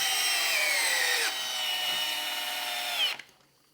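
Makita and Milwaukee brushed cordless screwdrivers running at speed 2, a steady high whine with a slight pitch shift partway through, then cutting off abruptly near the end with a brief trailing rattle.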